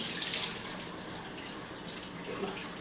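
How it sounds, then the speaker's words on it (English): Hands washed under a running kitchen tap after handling shark meat, a soft continuous splash of water, a little louder at the start, with no talk. "Gotta wash my hands before I turn my camera off."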